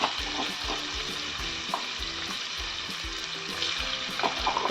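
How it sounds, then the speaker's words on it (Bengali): Prawns fry lightly in hot oil for a Bengali oil-prawn dish made without water, giving a steady crackling sizzle with intermittent scraping and stirring, close and even in level throughout. "2 থেকে 3 মিনিট আমি চিংড়ি মাছটা হালকা করে ফ্রাই করে নেব।"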